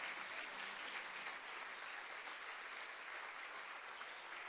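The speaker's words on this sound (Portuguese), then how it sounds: "Você consegue aplaudir ao Senhor pela sua palavra?" A church congregation applauds steadily for several seconds, a dense, even wash of clapping with no voices on top.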